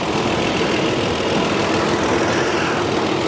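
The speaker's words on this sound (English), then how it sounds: "very quiet engine. No knocking, no ticking. Exhaust is quiet." A 2009 Toyota Tacoma 4x4 idling with a steady, even, loud engine drone and quiet exhaust, without knocking or ticking.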